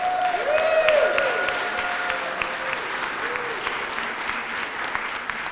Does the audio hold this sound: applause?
yes